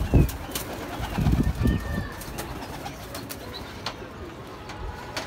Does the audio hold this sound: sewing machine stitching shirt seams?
no